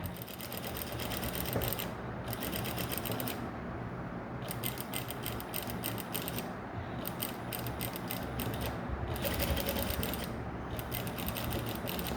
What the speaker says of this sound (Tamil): நான் வந்து ஆக்சுவலி உங்களுக்கு மெதுவாக தான் தைச்சி காட்ட போகிறேன்